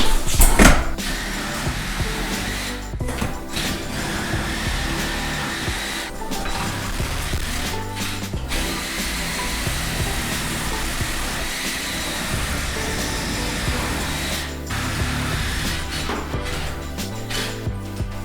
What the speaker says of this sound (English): So we'll go ahead and cut these nails now, and this door will come right out.